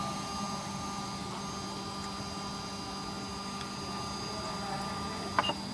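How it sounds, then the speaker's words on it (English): A GM3D500 large-format 3D printer's bed lowers in a steady mechanical hum, mostly even and constant, with a brief clicking flare near the end; no talking. "So there's the table moving down"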